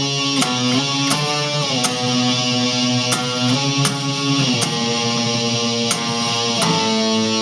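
An electric guitar plays a riff, steady picked notes with slides and an open A, repeating in a rhythmic pattern, clear and alone.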